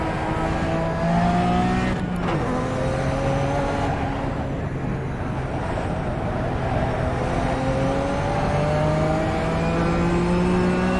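A racing car engine in a video game drones loudly and continuously, its pitch climbing and dropping through manual gear changes, with a brief sharp burst near the start.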